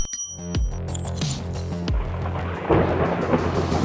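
Lightning strikes a few metres from a car, and thunder follows as two sharp, heavy booms that roll into a low rumble, with rain hissing steadily on the surroundings afterward.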